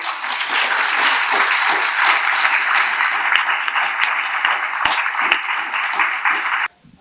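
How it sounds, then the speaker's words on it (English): Sustained round of clapping from a seated audience honoring a panel on maternal health and abortion access, dense and steady for several seconds before stopping abruptly. "I want to give everybody here another round of applause"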